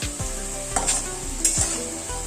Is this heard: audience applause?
no